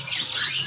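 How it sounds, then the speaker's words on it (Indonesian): An oriental magpie-robin from Central Java chirps in quick, bright bursts that blend into a hissy, busy bird-shop background, heard at moderate distance. "Ini kacer yang dari Jawa Tengah."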